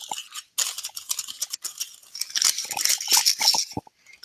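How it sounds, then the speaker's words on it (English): Brown paper wrapping around a book package is torn and crumpled open in bursts of crisp crackling and rustling, close and fairly loud, with short pauses between handfuls and no talking. "This is wrapped like Christmas time with plain brown paper."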